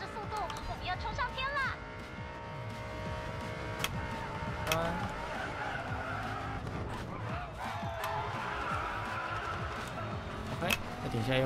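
Screeching tyres as a car drifts through a corner in a racing video game, the engine droning under a voice talking in Chinese, with sharp skid squeals and occasional knocks over about eleven seconds.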